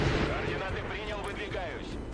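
In the Broken Arrow video game, an Mi-24P helicopter attacks sniper squads, with continuous heavy booming gunfire and rumbling impacts filling the brief burst.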